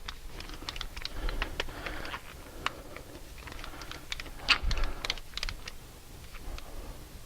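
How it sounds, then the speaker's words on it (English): A torque wrench is dialed to 79 foot-pounds for the front disc brake job on a 2012 Scion xD, giving a close run of quick, irregular ratcheting clicks with one louder snap partway through and no talking. "we're going to go ahead and set up our torque wrench to 79 foot-pounds"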